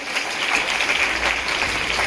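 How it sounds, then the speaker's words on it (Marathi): Loud, steady applause from an audience of students and guests at an Independence Day flag-hoisting and cultural programme, dense continuous clapping with no break across the whole stretch. "या सर्व विद्यार्थ्यांसाठी एका टाळ्या जोरात"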